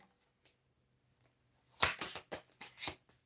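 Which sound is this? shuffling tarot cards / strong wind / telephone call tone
shuffling tarot cards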